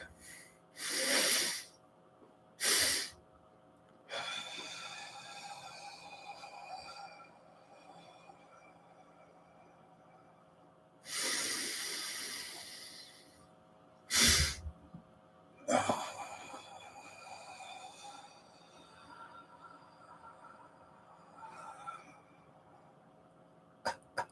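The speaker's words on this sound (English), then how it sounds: "Breathing exercise, double intake to get as much oxygen in our lungs, get as much carbon dioxide out." A person doing a breathing exercise with double intake breaths: several sharp, loud bursts of forceful inhaling and exhaling, separated by quieter stretches, close to the microphone.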